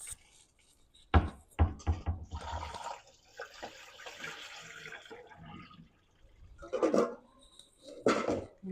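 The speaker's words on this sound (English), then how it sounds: "I'll go ahead and pour the water off" Water poured off cooled boiled eggs in a kitchen, a few sharp knocks of the pot followed by a running splash and gurgle, then drips and clatter, fairly quiet overall.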